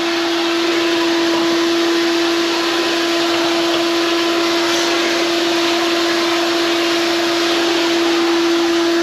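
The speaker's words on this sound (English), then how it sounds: "Vacuuming, getting this stuff up." A vacuum cleaner working inside the cabin of a Learjet 60 private jet drones loudly and steadily at close range, with a constant motor whine and rushing airflow and no talk over it.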